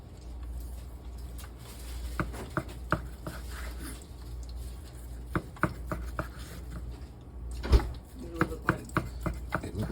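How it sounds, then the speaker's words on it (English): Homemade pastrami, slow-cooked for 10 to 12 hours, being sliced with a knife: a series of soft, irregular cutting taps and scrapes over a low steady hum, with no talking. "Okay, let's see how this will cut."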